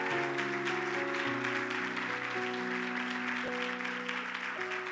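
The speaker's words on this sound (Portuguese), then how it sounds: "Eu queria que você aplaudisse Jesus pela vida deles" Applause in a church service fills the space, dense and steady throughout, with sustained organ or keyboard chords ringing underneath.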